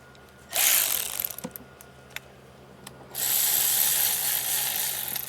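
A ratchet snugs the tensioner bolts on a Mercedes M276 engine during a camshaft and phaser replacement, giving two bursts of rapid clicking separated by a pause with a few scattered clicks, fairly close with no talking.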